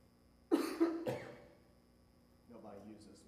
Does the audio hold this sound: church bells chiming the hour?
no